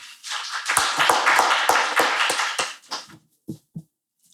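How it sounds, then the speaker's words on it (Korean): An audience claps to welcome the speaker at a forum on national water disaster crisis management; brisk, close applause builds quickly, stays dense for about two and a half seconds, then thins to a few scattered final claps. "여러분 큰 박수로 맞이해 주시기 바랍니다."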